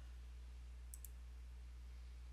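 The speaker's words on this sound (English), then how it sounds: "we're going to execute it by clicking the execute button" A mouse clicks the execute button during a live online class on running a query. A quiet double click comes near the middle, with a faint further click at the end, over a steady low hum.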